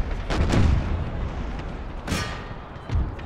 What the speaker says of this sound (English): Let's see if we can rout the army with effective artillery fire here.